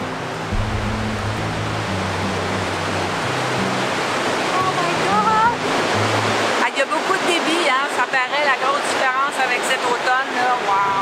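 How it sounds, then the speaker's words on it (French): Water roars over the cascades of the Magog dam in Sherbrooke during heavy April flow, a loud steady rushing wash that runs throughout, with people talking over it in the second half. "Le débit est tellement fort, les amis, qu'on sent le gronder l'eau."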